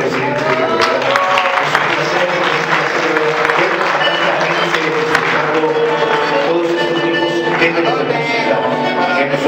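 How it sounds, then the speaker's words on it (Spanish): Audience applauding at a collective charity music concert, with a dense, continuous wash of clapping and crowd noise throughout, loud and close. "un aplauso para todos ustedes"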